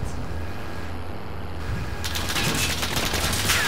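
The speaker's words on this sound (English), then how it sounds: "We're getting shot at." Bursts of gunfire in the Call of Duty: Warzone video game ring out as players come under fire, rapid shots crowding together over a steady game background.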